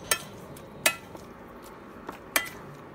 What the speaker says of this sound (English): Just mash it up.